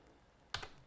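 Several quick keystrokes on a computer keyboard, a short cluster of close taps in a quiet room after a near-silent pause.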